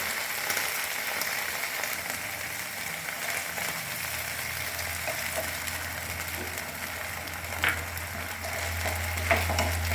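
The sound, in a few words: sauces and cornflour stirred in a frying pan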